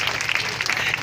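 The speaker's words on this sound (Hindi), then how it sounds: "जोरदार ताली बजा करके स्वागत करिए" A political rally crowd in Kushinagar claps briefly, a dense wash of applause at moderate distance with no voices over it.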